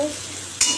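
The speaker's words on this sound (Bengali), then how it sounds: "কুমড়ো ভাজা হয়ে গেল, নামিয়ে দিই এবার।" Pumpkin frying in a pan, a low sizzle that ends in a sharp bright burst of hissing as it is stirred or lifted.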